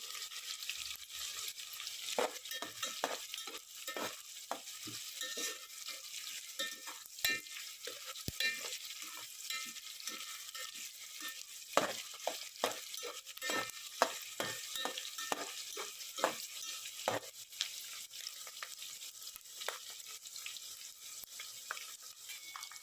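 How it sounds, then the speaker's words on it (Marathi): Chopped onions sautéing with salt in a pan for veg biryani, a steady close sizzle broken by frequent scraping strokes and light utensil ticks throughout, with no voices. "कांदा चांगला परतून घ्यायचा आहे."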